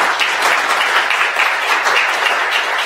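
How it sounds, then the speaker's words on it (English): An audience applauds a panel at a business talk, with steady, dense clapping that holds at an even level throughout, close and fairly loud, with no talking over it. "Can I get another set of applause for our panel?"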